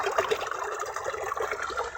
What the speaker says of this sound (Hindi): ये देखें ये पत्थरों के अंदर से पानी निकलता है